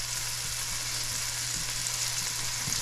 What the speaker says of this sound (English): just with a half a teaspoon of salt, just to let that onion sweat and release its